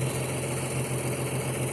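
A tractor engine idles steadily up close on 93 octane fuel with colder spark plugs fitted, holding an even low rumble with a slight pulsing and no one talking.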